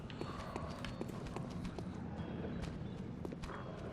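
Horse hooves clip-clop on hard ground in the video game Bloodborne, a steady quick rhythm of sharp knocks over a dense, rumbling game soundscape, with no talk.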